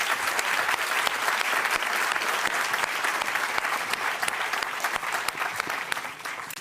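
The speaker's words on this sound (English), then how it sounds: "With your applause, would you please kindly thank our wonderful panelists for a great discussion." Warm applause from a forum audience thanking panelists after a NATO public discussion, a thick, continuous patter of many hands clapping at full strength, easing off slightly toward the end with no voices.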